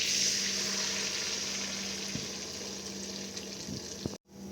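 Beaten egg mixture sizzling as it fries in melted butter in a pan, a steady hiss with a few soft clinks near the end before it cuts off.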